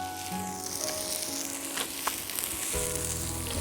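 Cut capsicum sizzles in olive oil with onion and asparagus, a dense close frying hiss with a few sharper crackles, over a faint steady tonal hum.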